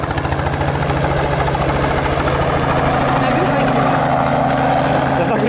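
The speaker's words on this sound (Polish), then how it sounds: "Nagrywał helikopter" Rhythmic thumping of a helicopter's rotors holds steady, loud and close, filling the whole stretch.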